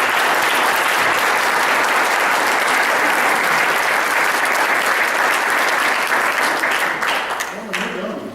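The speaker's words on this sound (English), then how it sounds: "Let's give all 4 candidates a round of applause." A crowd at a county political forum applauds the four candidates, loud, dense, continuous clapping from many people filling the room, thinning slightly toward the end as a voice begins.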